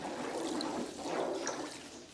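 Powder is stirred into 10 liters of water to make a swallow-attracting mixture, giving a continuous close sloshing and swirling of liquid at moderate level.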